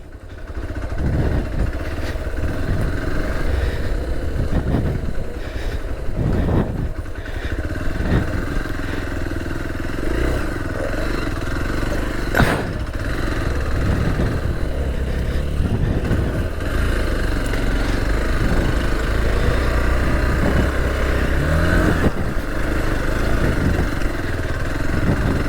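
A motorcycle on an extreme off-road river crossing near Dharmasthala runs its engine continuously at close range, a steady, rough mid-pitched drone with small surges and no clear speech over it.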